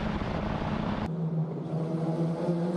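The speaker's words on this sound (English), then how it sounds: "Driving down into the heavy braking zone at turn number 12." Formula 4 race car braking hard into turn 12 at Circuit of the Americas, its engine note dropping sharply as it slows, loud and close, followed by a lower steady drone.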